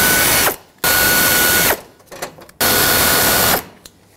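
A ratchet spins out 8mm bolts holding a plastic bumper cover to its bracket, heard as three loud, close bursts of rapid clicking separated by short pauses with faint handling sounds between.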